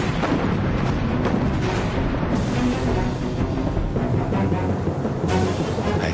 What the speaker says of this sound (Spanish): luego lo hunde a cañonazos.